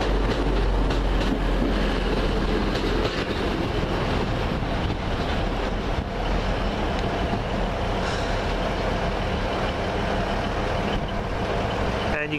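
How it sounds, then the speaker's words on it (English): A TransPennine Express passenger train departing Huddersfield station, a steady, loud rumble and roar of the train moving off that fills the whole stretch without a break. "Now departing with 1416 first Transpennine Express service to Hull."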